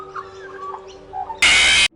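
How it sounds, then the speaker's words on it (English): An Australian magpie gives a soft, melodious warble of short, gliding notes that stays fairly faint, then a sudden loud burst of harsh noise cuts in for about half a second near the end. "This warbling isn't designed to carry long distances like other magpie noises."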